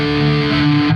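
A Chapman Pro Series electric guitar with humbucker pickups rings out a chord with heavy, saturated metal distortion, loud and sustained before cutting off abruptly.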